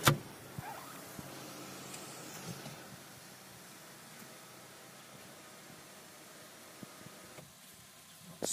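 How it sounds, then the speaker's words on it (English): The electric sunroof of a Hyundai Creta opens, a faint, smooth motor whir running steadily inside the quiet cabin, bracketed by soft clicks at the start and finish. "Opening the sunroof."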